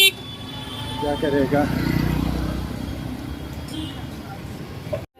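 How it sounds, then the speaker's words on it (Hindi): Busy road traffic crowds the area around a Durand Cup football ground, with cars, motorcycles and trucks rumbling steadily and horns tooting nearby, while people talk over the continuous vehicle noise. "गाड़ी बहुत आ रहा है, बहुत भीड़ है।"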